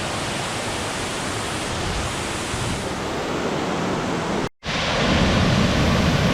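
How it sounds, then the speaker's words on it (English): A thunderous waterfall at Ricketts Glen pours as a loud, dense, unbroken roar heard close up, cut by a brief moment of silence before the rushing resumes even louder. "another thunderous waterfall"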